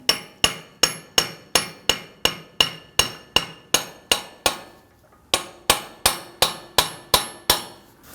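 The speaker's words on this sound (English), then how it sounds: "I'm going to take my brass punch and I'm going to come around the front and see if we can tap that axle in." Brass punch hammered against the front CV axle of a 2009-2017 Volvo XC60 3.2L L6, a steady run of sharp metallic strikes about twice per second, with one brief pause midway, close and alone with no talk.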